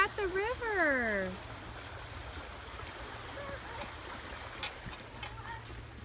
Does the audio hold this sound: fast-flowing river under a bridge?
yes